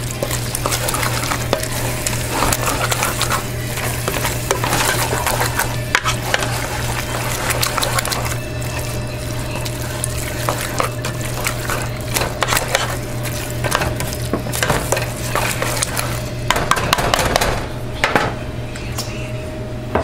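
Beans, including chili beans and black beans, stirred into a pot of taco soup, a continuous loud bubbling sizzle with frequent scraping and clanking of a spoon against the pot, no talk.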